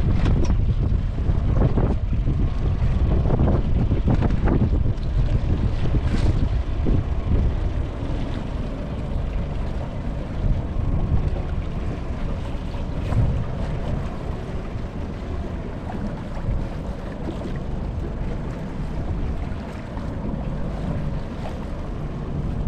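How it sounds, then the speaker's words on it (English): Boat at sea running through swell near a pole, with a constant engine rumble, water slapping against the hull and heavy wind buffeting the microphone throughout; louder splashes come early, then a steadier roar. "I'm trying to spin the boat around now."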